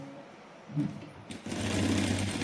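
Sewing machine starting up after a short pause, a steady close mechanical whirr that settles into continuous running with no one talking.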